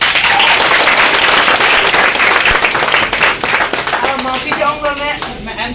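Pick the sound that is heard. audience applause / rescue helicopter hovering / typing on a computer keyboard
audience applause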